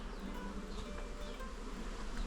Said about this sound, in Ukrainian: літають усі жвавенько, дивіться як пилок несуть